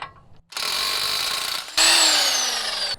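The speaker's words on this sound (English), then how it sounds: "Now we're gonna take a 33mm socket and remove this nut." A power tool driving a 33mm socket to remove a nut from a vehicle half axle, a loud steady whir that cuts out briefly and resumes with a higher, slowly falling pitch.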